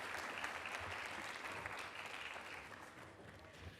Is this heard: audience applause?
yes